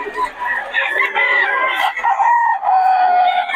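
A Sweater Gilmore rooster, double banded, crows in a loud, drawn-out call that fills the whole stretch, with other fowl noise around it.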